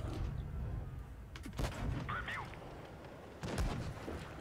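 Tank cannon fire in World of Tanks Blitz from an IS-5 battle: two heavy booming shots about two seconds apart over a steady rumbling engine bed, with a brief whistling shell sound in between.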